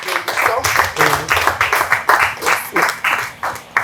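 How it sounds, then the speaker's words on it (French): Audience at a women's association conference applauds in a loud, close burst of rhythmic hand clapping lasting several seconds, with pulsing claps from a modest-sized group. "Nous applaudissons."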